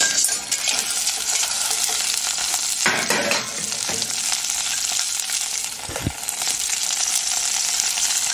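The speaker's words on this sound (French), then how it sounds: "Dès que l'huile commence légèrement à fumer, verser les crustacés." Crustaceans frying in hot, lightly smoking olive oil, a steady close sizzle and crackle throughout with a few stirring clinks and scrapes of a utensil in the pan.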